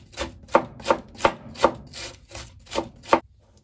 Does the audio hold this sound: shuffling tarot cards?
no